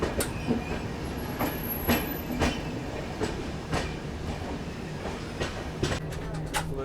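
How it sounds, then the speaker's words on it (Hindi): The Garib Rath Express pulls out of Gonda Junction at night, heard from on board as a rumbling carriage with repeated clickety-clack wheel beats and occasional brief squeals at a moderate, steady level. "ये था कि गोंडा जंक्शन से हमारा डिपार्चर।"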